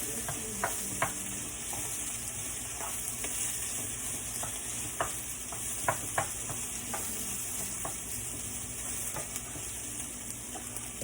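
Onions fry steadily in a pan until tender, a constant hissing sizzle with occasional crackles and light stirring, close and even throughout, no one speaking.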